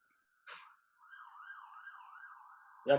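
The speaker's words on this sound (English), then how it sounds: "is that at your end, the siren, or here?" A distant street siren wails, rising and falling steadily, faint but continuous, with brief clicks at the start and end.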